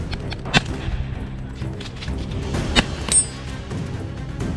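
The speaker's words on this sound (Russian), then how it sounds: "я уже стрелял последнюю мишень" Gunfire during a practical shooting duel with carbines, including a TK-509 smoothbore: several sharp, separate reports spaced irregularly over a few seconds against a noisy outdoor background, loud and fairly close.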